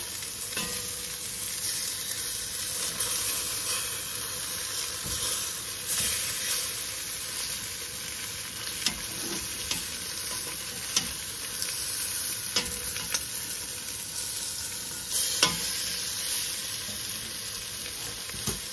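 Pork loin chops sear in a pot with olive oil for a Hawaiian one-pot meal. A constant loud sizzle and hiss runs throughout, broken by scattered sharp clicks and pops.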